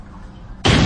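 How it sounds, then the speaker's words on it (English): A tremendous explosion erupts abruptly after a low rumbling lull, a loud, dense broadband blast that stays sustained and roaring to the end of the short clip. "The tremendous explosion from behind nearly bowled him off his feet."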